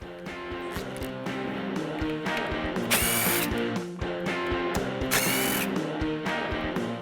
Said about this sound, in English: remove these 2 T40 Torx bolts right here on the A-pillar